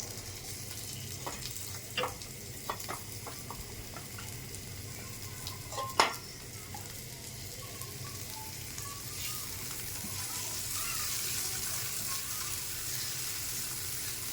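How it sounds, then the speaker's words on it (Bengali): Chopped onion fries in a little oil in a pan, a soft, steady sizzle with occasional sharp clicks of a utensil against the pan, one louder knock midway, and no talk. "পেঁয়াজ কুচিটা তেলে হালকা একটু ভেজে নেব।"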